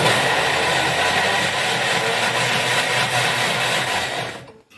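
A Thermomix chops carrots, celery and mushroom in a loud, steady, close whirring burst that runs for about four and a half seconds, then cuts off abruptly.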